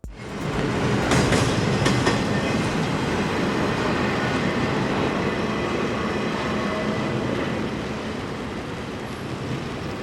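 A mixed-cargo freight train bound for East St. Louis, Illinois, rumbles steadily past close by, a continuous loud roar of wheels on rails with faint metallic squeals, easing slightly toward the end.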